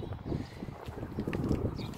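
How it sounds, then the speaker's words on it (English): Wind blows outdoors, a low steady rumble and buffeting against the microphone, loud and close for about two seconds with no talk. "the wind is picking up"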